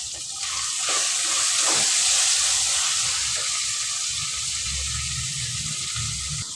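Chopped tomato tossed into sautéed onion and ginger-garlic paste, giving a loud bright sizzle that swells after the drop and stays steady, with a faint low clatter of the pan underneath.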